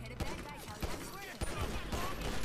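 Gunfire in GTA RP during a bank heist: several sharp shots crack out across a busy, loud mix of game sound and voices.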